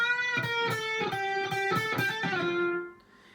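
Electric guitar plays a riff, a series of bright plucked notes with a slide and a held bent note that rings out and fades, played alone and close.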